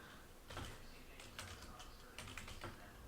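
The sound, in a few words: typing on a computer keyboard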